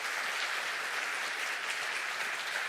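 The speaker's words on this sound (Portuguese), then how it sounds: "Vamos aplaudir esse Deus grande." Worshippers at a church service applaud together in a steady, even wash of clapping, moderately distant and uninterrupted throughout the brief moment, with no voices over it.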